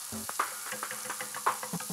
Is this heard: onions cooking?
yes